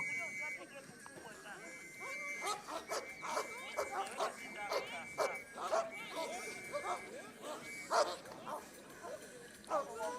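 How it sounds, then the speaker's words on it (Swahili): Police unit dogs bark in repeated sharp bursts during daily training with the dog and horse squad, outdoors at moderate distance, with voices talking underneath. "Mafunzo haya kwa mbwa hawa yanafanyika kila siku wakiwa wanapata training za kutosha kwa wataalamu hawa wa kikosi cha mbwa na farasi"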